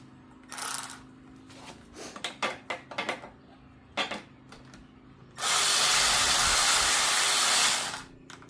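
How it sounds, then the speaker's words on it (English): Electric ratchet spinning off bolts during a teardown of a 1990 Chevy 350 engine, a sustained loud whirring burst of about three seconds following scattered clicks and clanks of tools. "for this specific reason, I use electric ratchet"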